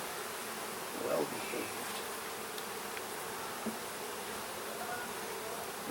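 Honeybees buzz around an open beehive, a dense and steady hum close by throughout, with a brief voice heard once near the start.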